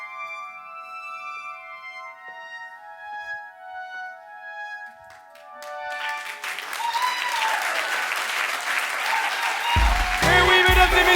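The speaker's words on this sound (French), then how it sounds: "on applaudit bien fort Yann" Musical tones ring out at a musical bingo show, then a large audience bursts into loud, sustained applause for Yann that builds and stays strong to the end, with a deeper musical thump arriving near the close.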